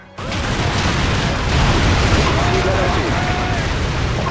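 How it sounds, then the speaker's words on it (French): An explosion in Call of Duty 4: Modern Warfare hits with a sudden loud onset, then a sustained, dense roaring rumble that stays heavy for several seconds, with voices mixed into the din. "Et boum!"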